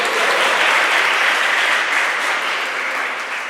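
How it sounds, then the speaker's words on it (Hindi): A large audience at a Mangal Aarti discourse gathering in Udhampur claps loudly and continuously, a dense, steady wash of applause with no voices over it. "ताली बजाओ जोर से।"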